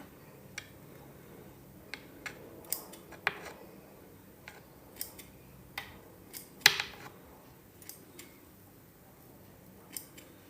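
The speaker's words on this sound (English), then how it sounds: "Never actually even used these scissors." Old scissors snip at aquarium plants during aquascaping in a shrimp tank. Scattered, crisp clicks and cuts come close up at an irregular pace, one at a time, and no one speaks.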